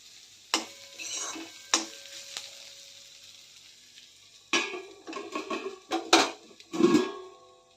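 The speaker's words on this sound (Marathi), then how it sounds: "भाजी परतून घेऊया नाहीतर भाजी करपण्याची शक्यता असते" Ridge gourd is stirred and sautéed in a pan, with a quiet sizzle under intermittent spatula scrapes and clanks, then a busier burst of rapid stirring and metal knocks near the end, close by.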